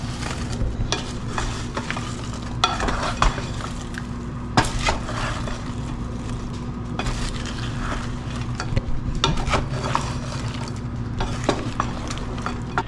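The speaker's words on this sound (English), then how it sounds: "let's give this a stir" Chicken of the woods mushrooms sizzle in a pan while being stirred, a steady close frying hiss broken by repeated scraping and clacking of a utensil against the pan, with no voices.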